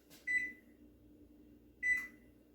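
Two short electronic beeps from an oven being set to 350 degrees for baking keto savory biscuits, evenly spaced about one and a half seconds apart, clear and close over a faint low room hum.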